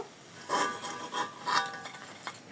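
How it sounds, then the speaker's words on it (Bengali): Fried potato sticks being lifted from hot oil with a metal utensil, giving a few light clinks and scrapes against the pan in a kitchen, close and fairly quiet, no talk. "এখন তেল থেকে তুলে নিব"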